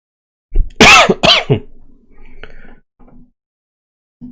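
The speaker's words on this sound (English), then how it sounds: "Sorry, I'm too tired to edit any of these coughs out." Two sharp, loud coughs close together, followed by softer throat noises and a few faint clicks, then quiet.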